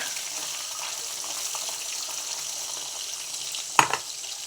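Fish frying in oil in a home kitchen pan, a steady broadband sizzle running throughout with a brief clatter near the end; no one speaks.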